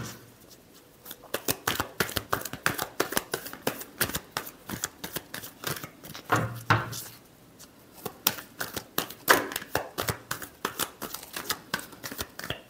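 Tarot cards riffled and shuffled close up in quick rapid bursts of crisp flicking and snapping, continuing steadily throughout with short pauses, no voice over them.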